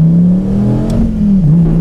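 A 2013 SRT Viper launches hard from a standstill on a wet road, its engine roaring loud and close with a steady rising drone and some wheel spin, carrying through the whole stretch with no talk.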